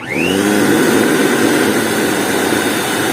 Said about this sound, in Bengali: আমরা গাড়ির ইঞ্জিনেতে এভাবে হাওয়ার প্রেসার দিচ্ছি